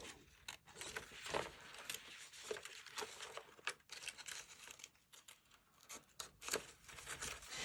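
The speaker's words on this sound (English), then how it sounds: "Now let me just connect these with my scissors." Scissors cutting through a cardboard spaghetti box while making a junk journal cover, crisp rustling, crinkling and snipping sounds at close range, quiet and continuous with irregular bursts and no speech.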